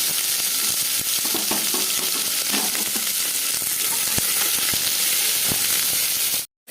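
Sliced onion frying in a pan with bay leaf, a loud, constant close sizzle with scattered clicks from stirring; the sound cuts out abruptly near the end.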